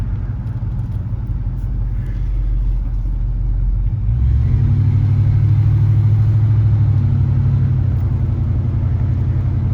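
A 1968 Ford LTD V8 with Flowmaster exhaust runs steadily with a deep, loud rumbling idle that swells into a fuller, throatier drone about midway and holds there, with no talking.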